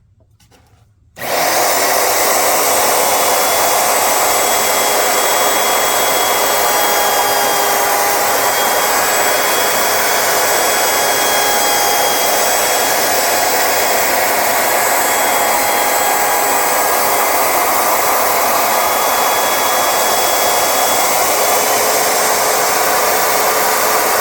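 Power tool routing a guitar control cavity through 3 mm thick material, a loud, steady high-pitched whine that starts abruptly after a brief quiet moment and runs continuously without letup.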